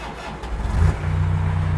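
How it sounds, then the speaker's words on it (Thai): A 2011 Toyota Hilux Vigo pickup truck engine cranks briefly and catches, settling into a steady low idle, close and loud. "เดี๋ยวขอสตาร์ทเครื่องยนต์กันนิดนึงนะคะ"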